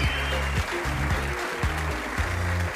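Crowd clapping fills the room at a roast battle comedy show, a broad steady wash of applause over a repeating low tonal pattern, likely music, that pulses in short blocks throughout.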